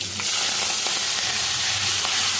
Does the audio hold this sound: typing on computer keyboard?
no